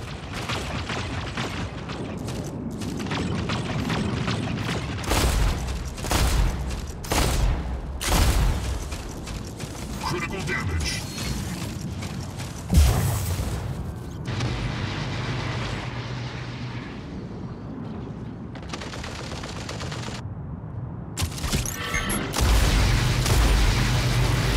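Incoming weapons fire in the robot combat game Mech Arena: a dense barrage of booms, blasts and mechanical thuds crowds the whole stretch. One especially heavy impact lands near the middle amid a continuous roar of battle.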